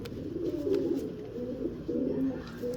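A pigeon coos close by, repeating low, throaty, rolling calls in a steady rhythmic series with faint background noise.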